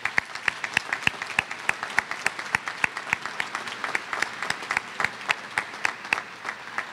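Graduates at a 2012 Terra State Community College commencement receive steady crowd applause, dense sharp clapping that carries on throughout at even strength, with no voices over it.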